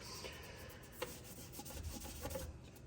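Rag rubbing over the metal parts of a Henry Big Boy X .45 Colt lever-action rifle during cleaning, a steady close-up scrubbing rasp with a few brief knocks, no talking.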